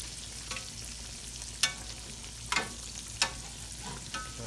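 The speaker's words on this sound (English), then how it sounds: "That nice fried squash" Sliced squash fries in a pan with a steady close sizzle, punctuated by several sharp clatters and pops as pieces are turned over.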